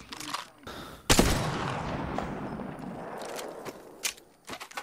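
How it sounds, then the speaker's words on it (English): Gunfire in the video game Apex Legends, a sudden loud burst followed by a long echoing rumble and scattered sharper cracks afterward, with quieter gaps in between. "Anyone hear that gun?"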